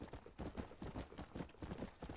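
Hooves clip-clop from a horse being ridden in Red Dead Redemption: Undead Nightmare, with steady rhythmic hoofbeats running the whole way through at moderate, close loudness.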